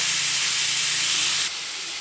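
Bottle gourd (lauki) with cumin frying in butter and ghee over a low flame, giving a steady close sizzling hiss that drops slightly in level partway through, with no talking.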